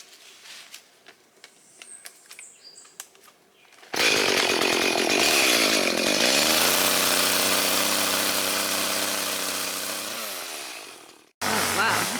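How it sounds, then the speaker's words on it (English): After some quiet clattering, a chainsaw roars to life and cuts steadily through a fallen branch for several seconds, its engine pitch sagging under load, then briefly idles again, on a farm. "now it's time to use the chainsaw to hack this thing up and clean up the mess"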